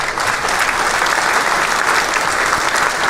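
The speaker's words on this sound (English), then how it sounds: "we give a round of applause for that one" A studio audience claps in a steady round of applause, dense and even from start to finish, with no voices rising above it.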